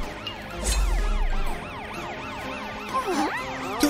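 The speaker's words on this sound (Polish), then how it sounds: "Radiowóz policyjny. Użyjmy syren, by oczyścić drogę." Cartoon police car siren wails in rapid repeating up-and-down sweeps, bright and fairly loud, cycling continuously over a low rumble of vehicle and background effects.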